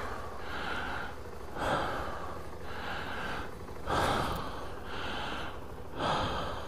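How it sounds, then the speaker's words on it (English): Heavy, rhythmic breathing sounds inside a helmet during a bike ride, with loud inhales and exhales repeating about every second and a half under steady wind rush. "And I caught myself breathing like that, adrenaline kicking now."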